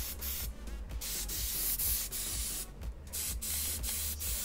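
Spray paint hisses in short, close bursts as a base coat goes onto cornhole bags, with faint rubbing sounds between passes.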